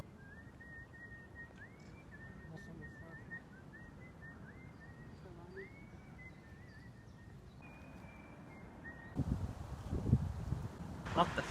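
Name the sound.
man whistling on Petrin Hill in Prague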